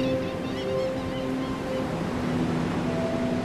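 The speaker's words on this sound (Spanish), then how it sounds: "Es el mar." Sea waves wash in a continuous broad roar with no clear breaks, mixed with a low rumble and faint steady tones that suggest a nearby boat, loud and unbroken throughout.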